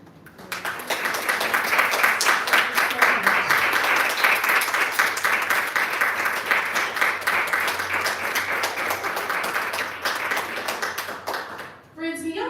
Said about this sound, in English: can y'all give another huge round of applause for Alisha Skeel?